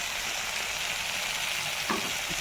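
Onion, garlic and tomato masala with turmeric fries in a pan, giving a steady, dense, close sizzle that never lets up. A faint stirring knock comes near the end.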